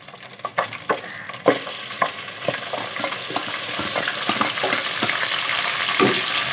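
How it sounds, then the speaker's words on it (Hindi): Crushed onions dropped into hot oil, reused from frying fish, in a cooking pot, with a steady loud sizzle building up after a few clattering stirs and bumps at the start, no talk. "गर्म हो गया है, अब मैं इसमें डाल रही हूँ सबसे पहले प्याज जो मैंने कूट के रखे हुए थे।"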